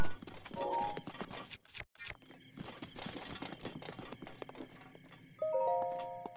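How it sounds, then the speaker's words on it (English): Horse hooves clip-clop on the ground in Zelda: Breath of the Wild, an irregular series of soft hoofbeats mixed with game sounds and a few chime-like tones. "Oh, look, horses."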